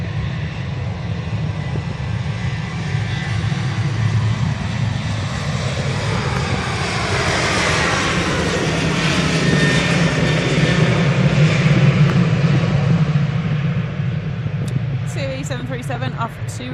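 An airliner departs Manchester Airport bound for Rhodes, its engines a sustained broad roar that builds gradually and peaks late, loud and continuous, with talk underneath.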